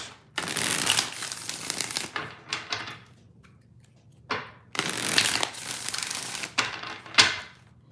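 Tarot cards are shuffled by hand in several bursts of crisp riffling and slapping, each lasting a second or two, separated by short quiet gaps, close and clear with no talking.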